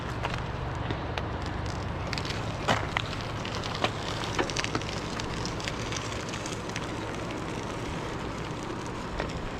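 Steady rain patters and crackles on surfaces nearby along the Elwha River, with a constant low background hiss and occasional sharper drips.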